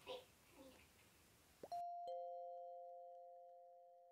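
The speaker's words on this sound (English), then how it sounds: "You wanna ring the bell?" A service bell at a reception desk in the Roblox game Bloxburg dings twice, the second ring clear and sustained with a long fading tail. A voice talks just before the rings.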